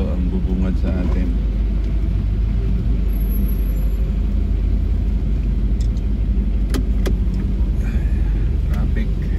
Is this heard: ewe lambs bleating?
no